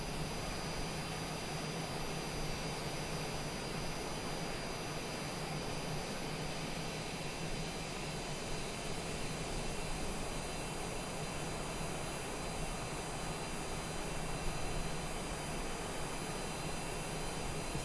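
A steady, unbroken jet engine roar fills the cabin of a Cessna Longitude business jet in Microsoft Flight Simulator 2020, a constant broadband whoosh with a faint high whine over it and no voices.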